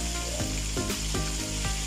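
Hot oil sizzles and crackles steadily as a tuna fillet fries close by, with a few soft scraping knocks from a utensil.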